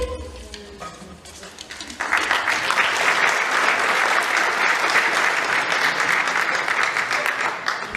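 After a quieter opening with some background murmur, an audience at an election debate breaks into loud, dense applause that continues steadily until the end.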